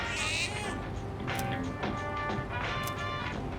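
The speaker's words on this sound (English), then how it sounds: "Cat's purring loudly." Cat meowing in the Persona 3 Reload video game, a few soft mewing calls over a steady background of game music and ambience, with no talking.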